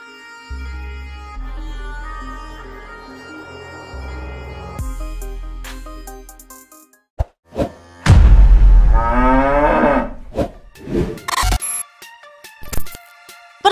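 After a run of electronic musical tones and a few sharp clicks, a cow lets out one loud, long, drawn-out moo, followed by scattered thumps.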